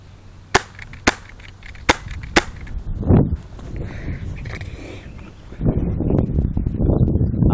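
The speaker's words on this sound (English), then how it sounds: "Before I shot the gun at my camera" An airsoft gun fires four sharp, distinct pops spaced about a second apart, close and loud, followed by rustling handling noise and a burst of louder movement near the end.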